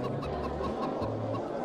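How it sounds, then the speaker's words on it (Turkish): A chicken clucks in the Dying Light 2 video game, a few short throaty clucks close by over a low droning game background. "Tavuk sesi geliyor."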